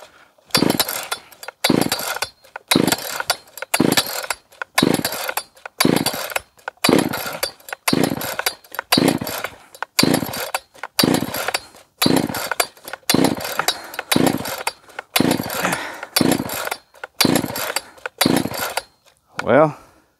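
A Poulan Poulverizer chainsaw runs during a carburetor tune-up, revved in sharp repeated bursts roughly once a second for about twenty seconds, loud and close, with brief drops to idle between each throttle blip.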